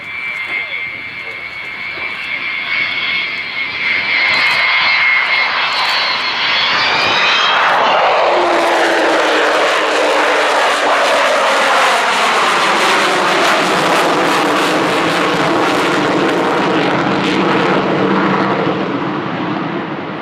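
Avro Vulcan XH558 jet bomber roaring through a solo flying display at an air show, a loud rising engine howl that sweeps down in pitch as it passes into a powerful sustained rumble, with a commentator's voice over the public address.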